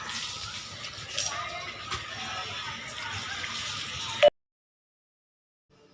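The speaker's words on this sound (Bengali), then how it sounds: "এই ড্রামের থেকে জল নিয়ে আমি জলটা দেব" Water is poured from a drum over soaked biryani rice, making a steady broadband splash and rush for about four seconds before it stops abruptly and silence follows.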